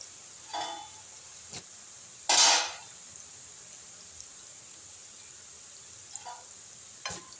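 Murukku dough spirals drop into hot oil in a home kitchen, giving a few short, separate bursts of sizzling between quiet stretches, with one louder, fuller hiss in the middle.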